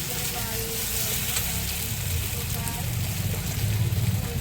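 Chilli paste, turmeric and coriander powder fry in hot oil with loitta fish, a loud, continuous sizzle with stirring scrapes throughout, growing slightly busier near the end.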